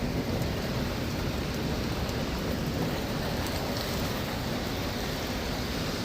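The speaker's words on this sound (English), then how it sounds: "I'll let you listen to the rainstorm." Steady, dense rainstorm pours down throughout, a continuous hiss of heavy rain with low rumbling thunder rolling underneath, no voices present.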